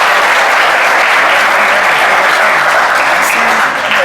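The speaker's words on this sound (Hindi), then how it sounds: "अपने क्लास को लेके, बच्चों के लेके पहला कमेंट तालियां है." Students in a coaching class applaud loudly and continuously, a dense, close burst of clapping that holds steady before easing slightly at the end.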